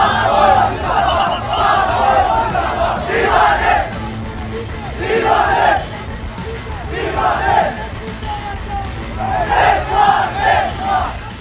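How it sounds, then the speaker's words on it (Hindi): A huge crowd of thousands chants 'Pak Fauj Zindabad' in loud rhythmic waves of massed voices, repeated phrase after phrase for the whole stretch. "नीचे खड़ी हजारों कट्टरपंथियों की भीड़ पाक फौज जिंदाबाद के नारे लगा"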